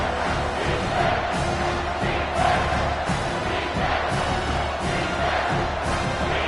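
A home crowd at an American football game roars steadily throughout, a dense, loud wall of cheering and yelling with rhythmic swells as the defense tries to get off the field on third down.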